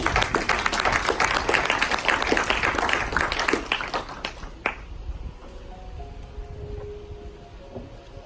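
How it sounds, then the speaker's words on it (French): A church congregation applauding Brother Georgie, dense loud clapping for about four seconds that tapers off into a quiet room murmur. "On va acclamer pour le frère Georgie."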